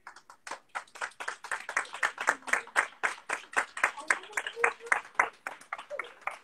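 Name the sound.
audience applauding the book fair team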